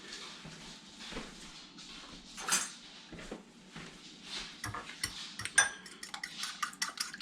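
A fork or whisk clatters and taps against a bowl while eggs are beaten for a French omelet, quick irregular clinks, close and fairly quiet, with louder metallic hits toward the end.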